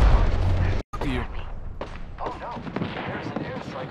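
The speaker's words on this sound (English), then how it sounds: "My airstrike." Airstrike explosions in the video game Apex Legends, a heavy booming burst at the start followed by scattered blasts and gunfire, with people talking over the action.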